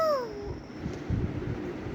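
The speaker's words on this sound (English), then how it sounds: "cat," A cat gives a single falling meow at the very start, fairly clear, then fades into low background noise.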